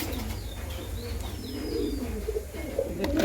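Giribaz high-flying pigeons coo softly at close range in a loft where pairs are nesting, with light chirps and a low background hum throughout.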